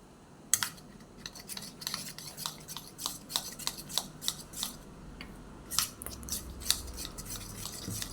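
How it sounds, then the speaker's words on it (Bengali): Besan batter is whisked with water in a bowl, a series of sharp rhythmic scraping clicks and taps as the utensil strikes the sides, steady and close. "এবারে বেসনটা গুলে নিচ্ছি"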